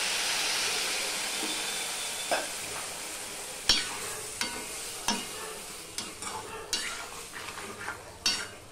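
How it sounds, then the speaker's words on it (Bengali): Spices with chilli powder and a splash of water fry in a pan for a vegetarian papaya curry, a steady close sizzle broken by sharp spoon scrapes and clinks against the metal as the mixture is stirred. "এবার আমি মশলাটা কষিয়ে নেব"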